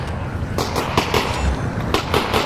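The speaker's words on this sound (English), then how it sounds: "I can hear gunfire." Gunfire in the Half-Life: Alyx VR game, outdoors in daylight: a scattered run of sharp cracking shots, some close and loud, others farther off, with no talking.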